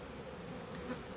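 A few honey bees remain in a hive box, giving a faint, steady low buzz throughout a brief moment, quiet and close with no voices.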